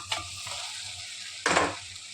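Boiled taro root goes into a pan of sizzling tomatoes and gets stirred, a steady frying hiss broken by a couple of sharper scraping bursts of the spoon against the pan.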